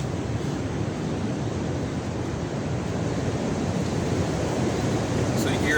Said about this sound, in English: Here the wind really still going at it, but you can see the tent being shaken here.